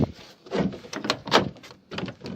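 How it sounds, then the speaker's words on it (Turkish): A wooden door on a pigeon breeding coop is pulled shut and fastened, giving a short run of close knocks and rattles, with no talking. "Bir dakika bu kapımı bağlayayım."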